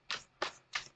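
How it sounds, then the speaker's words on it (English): Three quick, crisp riffling bursts from a tarot card deck being side shuffled by hand, evenly spaced, close and fairly soft with near silence between them. "Do some side shuffles"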